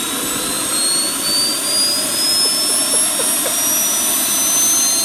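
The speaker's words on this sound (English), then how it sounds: "You know how sometimes you have those leaf blowers and the wet leaves just don't pick up?" A powerful leaf blower clearing wet leaves roars loudly and steadily up close, a continuous high-pitched whine over a rushing airflow with no talk.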